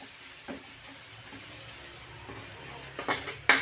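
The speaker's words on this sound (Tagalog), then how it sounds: "Siyempre gisa muna natin ang bawang. Kailangan pa brownin natin kaunti ang bawang." Garlic sautés in a pan with a soft, steady sizzle, quiet and close, broken by a few light clinks and scrapes of a utensil toward the end.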